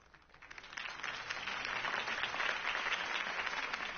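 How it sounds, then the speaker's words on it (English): Applause from a crowd in the video game Telltale Batman swells up and holds steady, a dense wash of clapping heard at a moderate distance. "If only Mr. Wayne, my campaign's largest backer, could have heard that applause"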